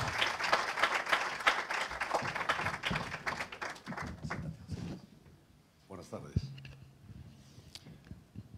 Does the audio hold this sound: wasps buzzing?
no